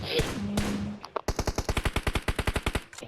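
Automatic gunfire from the video game PUBG Mobile: a rapid burst of shots follows a brief stretch of other game sound and a faint voice.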